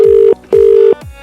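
An outgoing telephone call rings out with two loud, close, steady electronic tones separated by a short pause, with the start of a third at the end.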